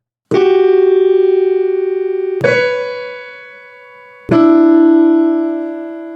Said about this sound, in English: the technical name for notes like this, which are a little bit harsh on the human ear, is dissonance